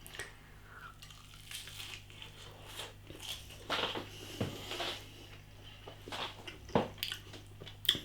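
Someone bites and chews a cheddar and pickle sausage plait, its pastry crunchy outside and mushy, wet inside; soft, close crunches and squishy mouth sounds come in scattered bursts with no speech.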